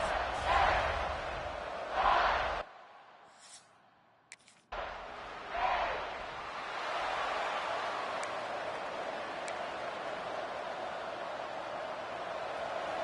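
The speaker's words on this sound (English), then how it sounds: "listen to this crowd noise. This stadium is vibrating." A big stadium crowd in the video game NCAA College Football 26 roars in swelling bursts, cuts out briefly to near silence, then returns as a sustained, loud wash of cheering noise.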